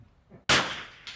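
Rifle bullet striking a steel target at a rifle range during an NRL22 match: one sharp, loud shot-and-clang crack ringing out briefly, followed a moment later by a fainter second ping.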